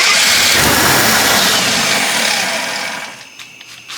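An old Jeep engine, left sitting for 25 years, catching and roaring loud and close, then dropping away to a faint rough idle with scattered clanks.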